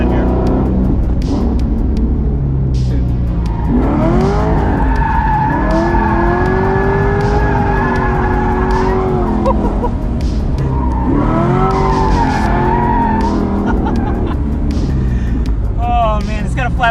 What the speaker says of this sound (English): Let's see how it is around the skid pad here.